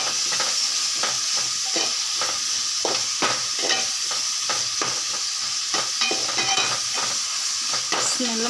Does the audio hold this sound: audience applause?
no